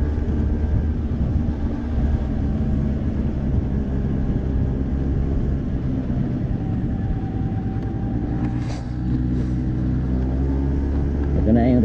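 Heavy road traffic rumbles steadily in a congested street, a low continuous drone of engines with a couple of brief higher hisses near the end.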